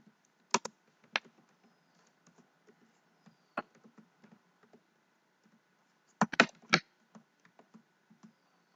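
Code being typed on a computer keyboard, sparse sharp key clicks in small clusters separated by quiet gaps, close and crisp with no voice.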